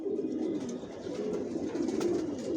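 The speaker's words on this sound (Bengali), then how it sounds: "ভিউয়ার্স দেখতে পাচ্ছেন এখানে সব অ্যাডাল্ট কবুতর" Adult racing pigeons of a long-distance racer line, leg-tagged and vaccinated, coo steadily inside a loft, a continuous low murmur of overlapping calls with occasional faint chirps.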